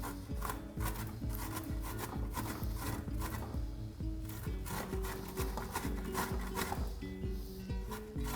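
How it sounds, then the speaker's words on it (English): Ginger being grated on the fine edge of a grater, continuous close rhythmic rasping strokes throughout. "So we're using one of the finer edges of the grater to grate the ginger."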